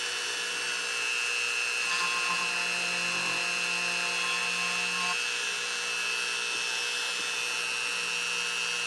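A steady high-pitched motor whine from a Dremel rotary tool runs throughout, with slight changes in tone as it grinds and carves into polymer clay.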